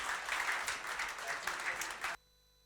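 An audience at a Telangana EV Day event claps together for about two seconds, a dense moderate burst that cuts off abruptly into near silence.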